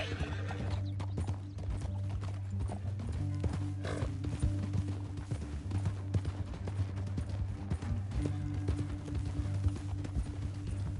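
In the video game Red Dead Redemption 2, horses gallop with rapid clip-clopping hooves, a horse whinnies, and faint gunshots and voices sound under a steady background score.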